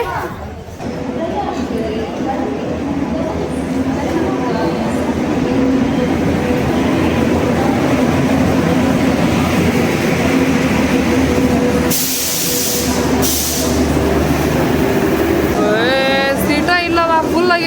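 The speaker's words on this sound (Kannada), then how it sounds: "ಸೊ ಟ್ರೈನ್ ಬಂತು ಫ್ರೆಂಡ್ಸ್" A train arrives at a station, rumbling close by with clattering wheels and a sharp hiss of air, while people talk over the noise.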